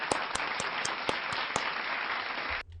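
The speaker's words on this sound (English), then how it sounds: "Clap it up, bro." A crowd applauding, a dense steady wash of handclaps with a few sharper individual claps standing out, then cutting off abruptly near the end.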